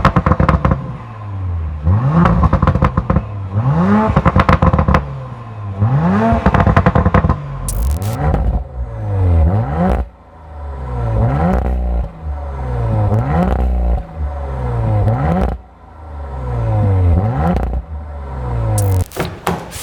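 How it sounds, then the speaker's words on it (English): A 2023 Audi RS5 Competition with sport exhaust revs repeatedly, each blip rising and falling in pitch with crackles and pops between, loud and close with no talking. "Right now we're going to hear some of the sport exhaust and how it sounds."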